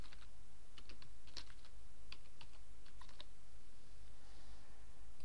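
Typing on a computer keyboard to enter alternate text, a quick run of scattered key clicks in bursts over a steady low hum, fairly quiet and with no talking.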